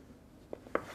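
A knife cuts crustless toast bread into rough cubes in a home kitchen, giving two short, soft cutting taps close by, with no talking.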